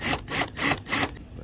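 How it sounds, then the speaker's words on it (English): A drill bores screw holes into a boat's gel coat in a series of four short, rhythmic grinding bursts close by, with brief pauses between them. "let's drill out our screw holes here"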